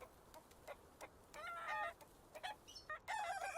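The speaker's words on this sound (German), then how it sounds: "jetzt haben wir die hure Hühner wieder" Hens in the video game Baby Steps cluck repeatedly: sharp isolated clucks, then two longer squawking bursts and a final run of calls, fairly close and with no talking.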